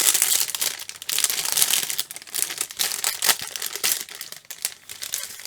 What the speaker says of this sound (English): let's just open up the packaging and see what's inside